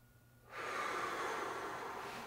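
A single deep inhale taken during an at-home core workout with dumbbells: a sudden, close, breathy rush of air that holds steady for nearly two seconds, with no talking.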